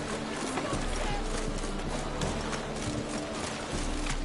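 Horse hooves clip-clop in a PS4 game, a steady run of hoofbeats close by over a dense, constant backdrop of game sound, with talk mixed in.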